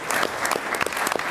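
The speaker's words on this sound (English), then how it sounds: "just join me in a round of applause for Matt" An audience at a wildlife commission meeting applauds briefly, a short burst of steady clapping at moderate loudness from a room of people.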